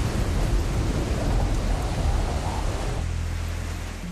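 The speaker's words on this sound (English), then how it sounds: "At the same time, the rain picked up in intensity." Heavy rain pours during a thunderstorm near an airport, a loud, dense, steady roar with deep rumbling underneath that eases slightly toward the end, with no voices.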